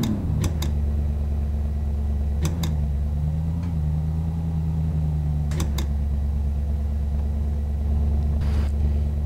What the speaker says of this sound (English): It sounds like a sports car, doesn't it?